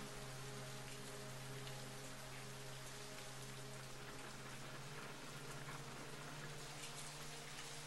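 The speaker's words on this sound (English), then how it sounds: "It looks more than a light drizzle to me." Steady rain falls in the horror game Fatal Frame 3, a dense, even hiss of drops on a surface with a low hum beneath, continuous and unbroken with no voices.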